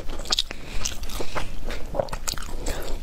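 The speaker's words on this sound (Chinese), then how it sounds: "这烤肠特别好吃" Crisp bites and moist chewing of a grilled sausage held close to the microphone, a steady run of crunchy, squishy mouth sounds with no talking.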